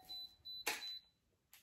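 A wax warmer gives short electronic beeps while heating up, three brief tones in a row followed by a fainter one, close and alone in a quiet room.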